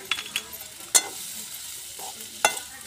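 Cooked potato being stirred into roasted spice masala for vada pav, with a faint sizzle underneath and a few sharp scrapes of the spoon against the pan, close and sparse with no talking.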